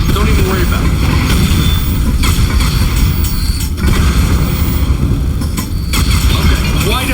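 Shooting in the video game Aperture Desk Job, with parts breaking and falling off: loud, dense, continuous blasts and crashing booms from start to finish.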